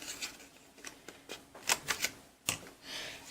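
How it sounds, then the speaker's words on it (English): A 1/4 inch corner rounder punches through the corner of a paper file folder tab, giving a few quick clicking, snapping hits in a short cluster, close and crisp with no talk. "I'm gonna corner round the top left with my 1/4 inch corner"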